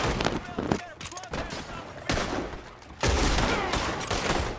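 Heavy gunfire in the Red Dead Online video game, a dense run of rapid shots in several loud bursts filling the whole stretch, with players talking over the shooting.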